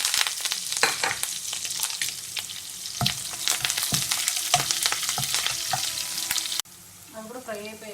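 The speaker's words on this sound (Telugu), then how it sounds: "ఇప్పుడు దీంట్లో onions, green chilli, ginger, curry leaves, coriander leaves వేసుకున్నాం అనమాట." Onions, green chilli, ginger, curry leaves and coriander leaves sizzle in hot oil in a pan, a dense steady frying hiss with scattered crackles and pops, close and loud, easing into a softer sizzle near the end.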